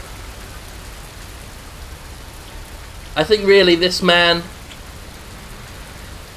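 Steady rain patters down on the streets of a New York setting in the video game City Bus Simulator, a soft continuous hiss under a brief stretch of someone talking midway.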